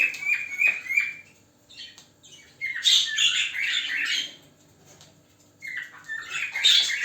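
Small blue Spangle budgerigar chattering in bursts of squawky, warbling chirps, close to the mic, with brief pauses between busy calling spells.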